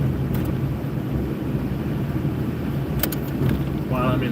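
A car idling with the engine left running: a steady low rumble and hum from inside the vehicle, continuous and fairly loud, with a few faint clicks and a brief tonal sound near the end.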